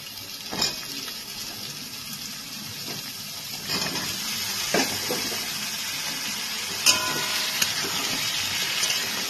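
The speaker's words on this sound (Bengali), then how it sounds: "আলুটাকে একটু ভালো করে ভেজে নেব" Potato pieces frying in a salted pan for a fish curry, a close, steady sizzling hiss with occasional sharp pops and crackles.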